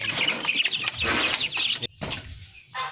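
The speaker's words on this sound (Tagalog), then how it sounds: "Papakainin po namin yung alaga namin manok." Backyard pet chickens cluck and chatter in short bursts at close range on a rural farm, with brief pauses between the calls.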